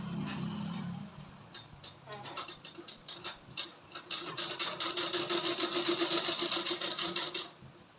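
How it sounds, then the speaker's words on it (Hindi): A sewing machine runs a double stitch line on a flared palazzo, its needle chattering in fast, rapid ticks that build to a steady dense run after a short start, close and fairly loud. "इसके ऊपर डबल सिलाई चला लेंगे।"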